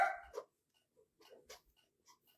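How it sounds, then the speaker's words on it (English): Dogs barking downstairs in a house, muffled and distant, with a few short scattered yips and whimpers separated by quiet gaps. "My dogs are down there barking."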